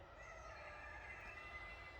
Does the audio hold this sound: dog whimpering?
no